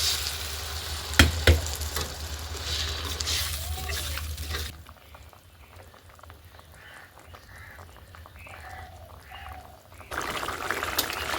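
A turnip and potato curry sizzles and bubbles in a pan after water is poured in, a steady close hiss that drops to a softer simmer midway before rising again.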